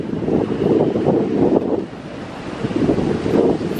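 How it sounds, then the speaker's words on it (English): Strong wind gusts buffet the microphone on an open hilltop summit field in a park after heavy rain, a steady loud roar that swells and dips without any voices. "Very windy up here."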